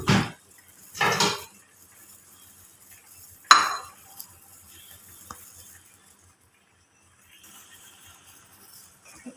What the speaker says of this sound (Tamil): இப்போ நான் கொஞ்சம் இது கிளறி இருக்கிறேன்.